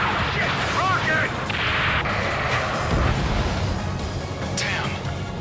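A rocket strike and explosions during a helicopter rescue mission in the combat flight game Ace Combat 7: Skies Unknown, heavy rumbling blasts and crackling fire layered under urgent radio chatter, with a whistling streak near the end.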